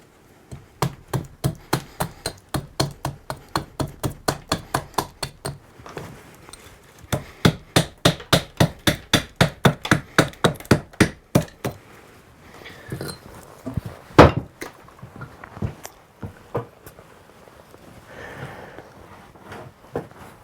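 Wood being split with an axe worked sideways during knife carving of a butter knife: a long run of close, sharp, evenly spaced knocks, a short pause, another steady run, then sparser irregular taps.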